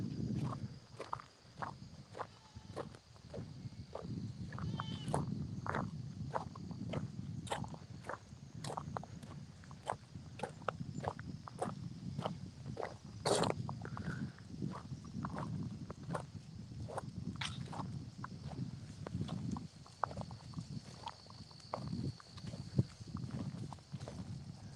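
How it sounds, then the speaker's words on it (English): Sheep and goats graze and walk outdoors on a farm, producing a steady run of close, soft hoof steps, rustles and chewing crunches that continue irregularly throughout. "Just hanging out with sheep and goats."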